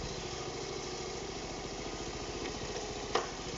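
A restored 1971 Honda C50 engine idles with a steady low chugging putter, close by, and a brief clunk near the end.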